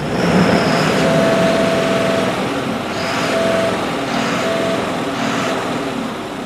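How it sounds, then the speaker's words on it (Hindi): The diesel engine of an Ashok Leyland 4825 sixteen-wheeler truck revs loudly and steadily up close, its drone rising and easing in a few swells, with a faint whine above. "थोड़ा सा मैं आपको साउंड टेस्ट करवाता हूँ कैसी साउंड है इस इंजन की"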